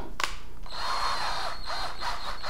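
A power drill fitted with a countersink bit whirs steadily and close up in a DIY workshop, with a sharp start, then a continuous whine that rises and dips as the bit cuts.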